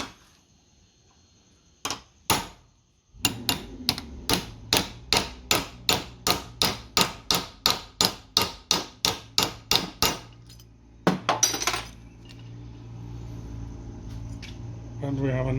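A hammer taps metal to shape a dimple in a spoiler, about twenty sharp, evenly spaced metallic strikes in a quick steady rhythm, close and clear, followed by a clatter and low workshop noise.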